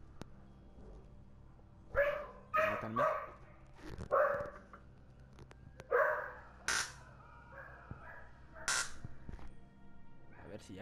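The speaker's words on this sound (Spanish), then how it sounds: "están ladrando los perros" Dogs bark in several sharp, separate bursts at a moderate distance, some yips among them, and a single brief spoken word breaks in between them.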